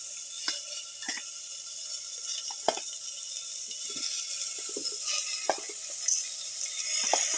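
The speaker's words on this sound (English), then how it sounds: "Put in the marinated mutton and chayote pieces" Marinated mutton and chayote pieces sizzle steadily in a hot pan, a bright continuous crackle broken by occasional stirring clicks and scrapes, close up with no voices.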